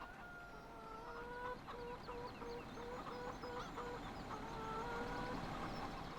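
Chickens in the farming game Farming Simulator 17 cluck repeatedly in quick, tonal bursts, moderately near over a low steady background hum, with no one speaking.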